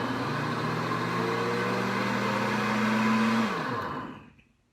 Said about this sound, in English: The cauliflower curry is just finishing up in our Deluxe Cooking Blender.